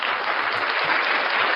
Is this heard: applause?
yes